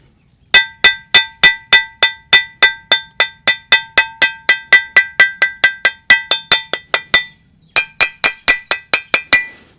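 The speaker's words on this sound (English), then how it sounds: "I'm just going to show you this technique, right, with the chipping hammer" A chipping hammer knocks flaky rust scale off a GM OBS truck rear axle in rapid, evenly spaced ringing metallic strikes, close and loud, with a short pause before the blows continue.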